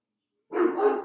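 A single short, loud dog bark close by in a home, breaking out abruptly after silence.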